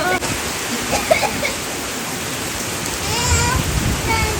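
Heavy rain falling at night, a dense continuous hiss close by, with faint voices in the background.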